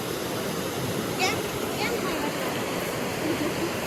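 A strong current of river water rushes past in a steady, dense roar that fills the whole stretch evenly, loud and close, with no pauses.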